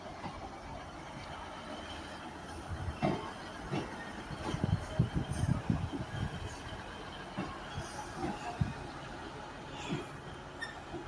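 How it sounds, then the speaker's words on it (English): Class 158 diesel unit 158787 from Middlesbrough rolls into Carlisle station to terminate. Wheels clatter and squeal faintly in bursts over a hissing, fairly distant rumble, with no clear speech. "used by one of their 158s, 158787 from Middlesbrough, and will terminate here at Carlisle"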